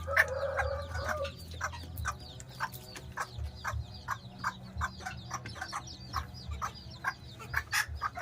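Bantam chicks and hens cluck and peep in a steady run of short, close calls, with soft rustling and low background hum throughout and no talking.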